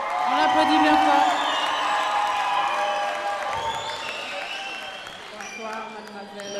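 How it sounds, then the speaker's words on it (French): Audience at a Miss Wallis & Futuna 2020 pageant gala applauds and cheers as a contestant is introduced, a broad wash of clapping with scattered whoops that gradually fades, with a presenter speaking over it. "On l'applaudit bien fort."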